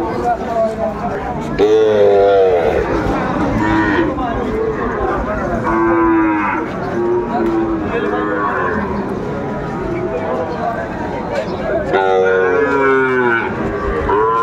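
A young Sahiwal bull calf bellows several drawn-out moos close by, heard over the busy chatter and murmur of a crowded livestock market.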